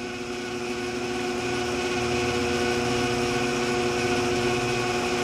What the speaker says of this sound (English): It's really a nice slow running speed, 208 RPM.